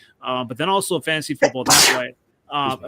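A person sneezes once, sharp and close, right after someone talking about football finishes a sentence, with his talk resuming briefly afterward.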